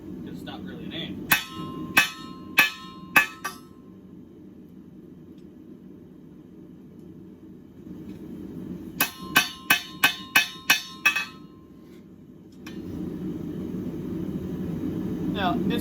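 Steel is hammered to forge a point on an improvised anvil, two bursts of sharp ringing blows, about four strikes then a quicker run of six, over a steady low hum.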